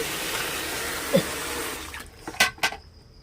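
Water running from a tap into a container, a soft steady flow that stops, followed by a few brief clunks and splashes nearby, with no talking.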